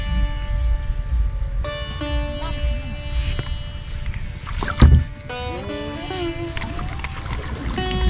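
A wooden country boat on the Kaliganga river in Manikganj, with water lapping and sloshing against the hull, knocks and thumps of boarding, and voices and tonal background sounds over the steady water noise.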